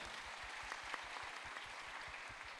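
Applause from an audience at a cryptocurrency regulation event in Indonesia, dense steady clapping with a rhythmic low thump running through it, held at an even level throughout.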